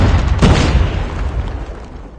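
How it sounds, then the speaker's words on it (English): A grenade goes off in Call of Duty Mobile with a sharp, loud boom near the start, then a rumbling tail that fades over the next two seconds. "Grenade out!"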